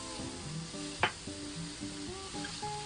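Onions and ginger sizzle in a hot pan for a burger, with a steady frying hiss. There is one sharp clatter near the middle, and faint tonal kitchen sounds play underneath.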